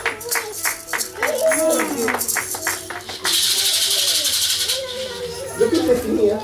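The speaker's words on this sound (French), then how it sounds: "j'applaudis beaucoup." Several sharp hand claps in quick succession sound close by at a church service amid talking voices, followed by a louder sustained wash of noise.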